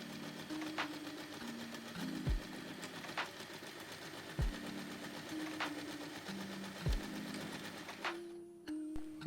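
A sewing machine stitches along the edges of fabric for a tiny keychain charm, running in a steady fast mechanical whir. Its pitch shifts slightly between bursts, and brief pauses or thumps land every couple of seconds, close and moderately loud.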